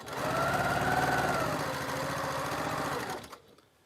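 A sewing machine stitches the final seam of a quilt, a steady close mechanical whir with a rapid rhythmic needle chatter that runs evenly for about three seconds and then stops abruptly.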